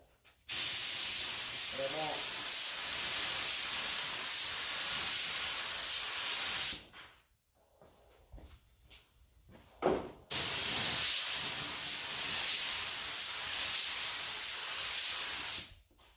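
A spray gun lays a quick pass of black base coat paint onto the rear bumper of a classic Mustang: two long, loud, close hissing bursts of several seconds each, separated by a brief quieter gap.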